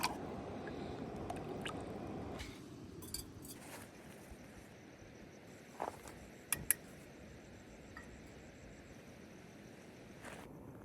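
A container is rinsed with river water at an overnight riverside campsite in the early morning: soft splashes and a few light clinks over the steady rush of the river, with no talking.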